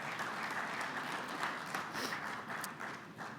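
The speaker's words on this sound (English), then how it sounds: "Big round of applause." A conference audience applauds to welcome a speaker to the stage, steady dense clapping from a room full of people, moderately distant and sustained throughout.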